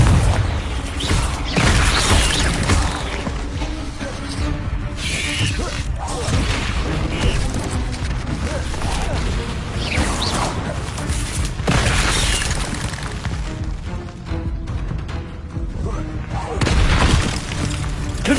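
Repeated booming fire-spell blasts of Confringo in the Hogwarts Legacy video game, loud, dense combat bursts and crackling impacts layered over a busy battle soundscape, with voices talking throughout.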